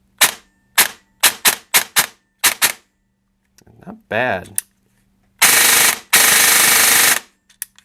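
An M4 AEG airsoft rifle fires several quick single shots, then two loud, sustained full-auto bursts, close up with a short mechanical whir between. Someone speaks briefly.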